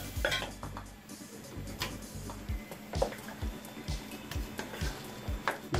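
A spoon scrapes and knocks inside a pot of mashed potatoes in a home kitchen, with steady rhythmic stirring clinks and soft thuds throughout, close and fairly quiet.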